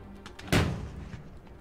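A flashbang goes off in the tactical game Jagged Alliance 3: a single sharp, loud thud-like burst that fades quickly into a low rumbling tail, with no voices over it.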